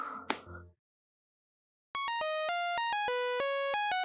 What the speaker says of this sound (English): It's that damn phone.